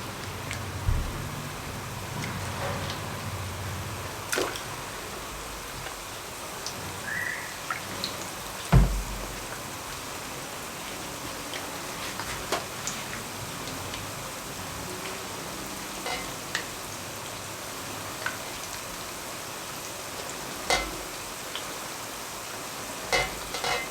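Battered fish pakora coated in besan frying in hot oil gives off a steady, close sizzle with scattered small pops and crackles throughout, and no talking.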